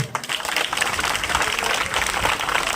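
Village crowd at a Haryana political rally applauding steadily, dense continuous clapping throughout.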